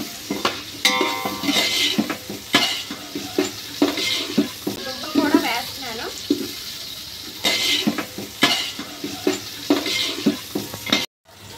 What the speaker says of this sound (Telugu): ఇదిగోండి ఈ దుంపలు కూడా వేస్తున్నాను.